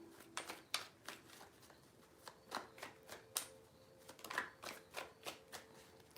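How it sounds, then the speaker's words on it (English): Tarot cards shuffled by hand at close range, a series of quick riffling snaps and soft slaps in uneven bursts, fairly quiet overall. "Three shuffles."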